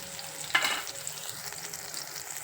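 Mustard seeds, cumin and turmeric hitting hot oil for Puneri misal, a sudden soft sizzle burst that settles into a quiet, steady frying hiss.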